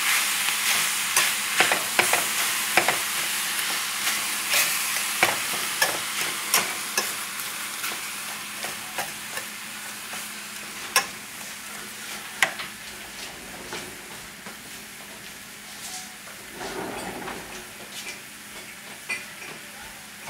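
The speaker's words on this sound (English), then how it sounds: "so what you do is just keep on cooking this until the meat turns brown, the vegetables are translucent" Ground beef and vegetables for chili fry on high heat in their own fat, a steady close sizzle broken by repeated scraping stirs and light utensil clicks against the pan.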